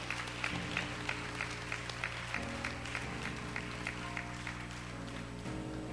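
Congregation clapping hands during a church worship service, steady clapping under sustained organ or keyboard chords and music, moderately loud and continuous.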